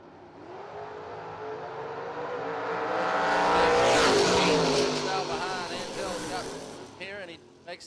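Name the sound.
Oldsmobile Cutlass hot rod launching at Super Gas drag race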